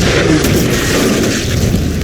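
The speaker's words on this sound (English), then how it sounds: "Oh, fuck, that's an anti-tank rifle!" An anti-tank rifle firing in an anime fight scene, heard as a loud, sustained booming blast with a heavy low rumble and noisy crackle that fills the short stretch without letting up.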